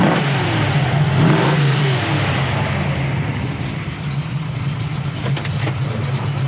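A 1973 Chevy Nova with a built 383 stroker V8 rumbles loudly and steadily nearby, a deep low idle with rising revs, no voices.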